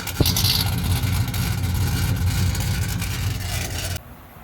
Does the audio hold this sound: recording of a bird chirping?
no